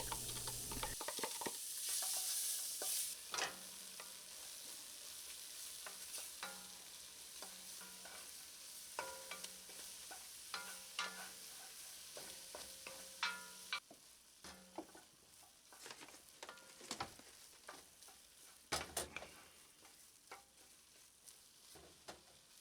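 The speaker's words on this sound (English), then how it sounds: "Keep stirring until those onions are looking translucent" Onions are stirred in a hot, thick gumbo pan, giving a continuous close sizzle with repeated scraping strokes of the spoon and soft clicks throughout, no voices.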